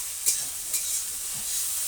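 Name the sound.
onions frying in a pan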